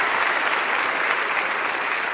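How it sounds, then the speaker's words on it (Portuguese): Steady, dense applause from the audience at a stand-up comedy show, a continuous even roar of many hands clapping at full volume without a break. "Uma salva de palmas para vocês que colaram aqui."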